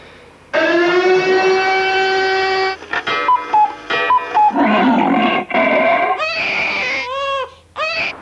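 A man mimics a siren with his voice, holding long rising and falling wails, then breaking into choppier vocal sound effects, loud and close with no other sounds.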